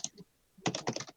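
Typing on a Razer Black Mamba keyboard, a quiet non-clicky stealth version: a couple of soft keystrokes, a pause, then a quick burst of muffled key presses, close by and without voices.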